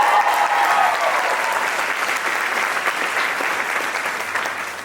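Loud, sustained applause from a large crowd at a university commencement ceremony, dense clapping that holds steady and tapers slightly toward the end.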